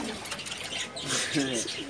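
Pigeons coo in a loft of high-flying pigeons, a soft low rolling murmur running through the whole stretch with a voice talking over it at close range.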